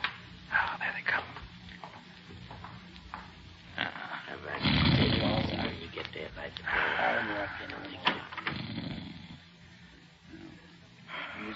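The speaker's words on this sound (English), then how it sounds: "I can hear him snoring" A man snores in an old radio detective drama, with deep, rasping, roar-like breaths near the middle, set among voices and small room noises.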